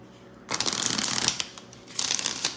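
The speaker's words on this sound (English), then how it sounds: "Wait, let me shuffle on that one." Tarot cards being shuffled by hand, two bursts of quick riffling flutter, the first longer, close and fairly soft with brief pauses.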